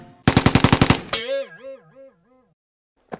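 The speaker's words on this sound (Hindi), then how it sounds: "सरदार ये है जापानी स्टेन गन, इससे तुम अपने दुश्मन चाचा चौधरी को मार सकते" A cartoon Japanese Sten gun fires a rapid burst of about nine automatic shots, then a wobbling springy effect tone and a final single crack after a short pause.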